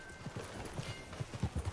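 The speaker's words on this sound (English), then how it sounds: "Get on your horse, John." Horse hooves clip-clop in a steady, uneven trot in Red Dead Redemption 2, close and moderately loud, with a faint background hum.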